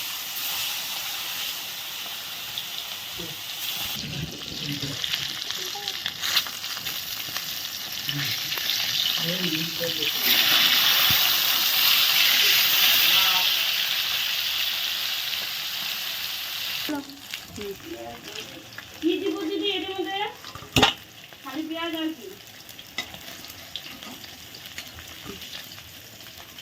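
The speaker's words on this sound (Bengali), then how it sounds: "এখন মাছগুলো ভেজে নেবো" Katla fish fry with turmeric in a hot wok, giving a strong hissing sizzle that swells and then fades, while a person talks over it and utensils clatter at intervals.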